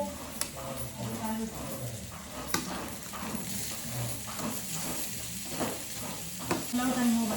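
Onion sizzles in a pan as the base of a soybean curry, a soft steady frying hiss broken by the scrape and clink of stirring, while someone talks over it.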